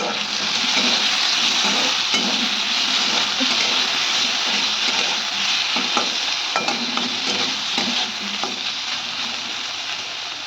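Ground spice paste hitting a hot pan, bursting into a loud, dense, continuous sizzle with occasional stirring scrapes, close and steady throughout.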